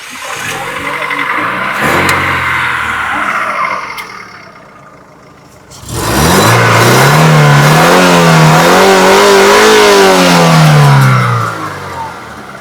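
A used car at a car market has its engine started after a quieter stretch, then revved hard several times, the loud rising and falling engine note close by with some voices before it.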